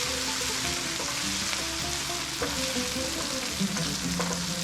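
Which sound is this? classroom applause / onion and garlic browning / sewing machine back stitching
onion and garlic browning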